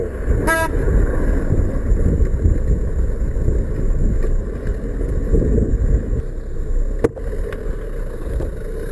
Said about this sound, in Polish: Czego trąbisz?